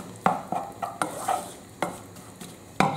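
Ingredients being stirred and mixed together in a pan, with a series of distinct scraping and clattering strokes at an uneven rhythm, close up and fairly loud, without any talk.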